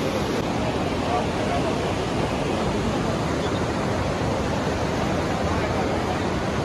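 Hot spring water pours and rushes steadily at the Manikaran Sahib temple, a loud, continuous broadband roar that fills the whole stretch without a break.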